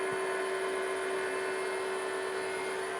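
A wood lathe turns a lidded box while a bedan tool cuts, producing a steady, unbroken motor whine over a continuous hiss. The sound is close and even throughout, with no talking.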